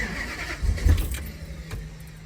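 A 1967 Dodge Coronet 500 convertible with Sniper EFI cranks and fires up, a short churn then a low engine catch settling into a rumbling idle, close and alone.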